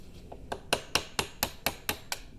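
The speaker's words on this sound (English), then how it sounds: "take your screwdriver up against this end of the C-clip with your hammer" Eight or nine sharp metallic taps of a hammer on a screwdriver against a C-clip on an ATV U-joint, evenly spaced and close.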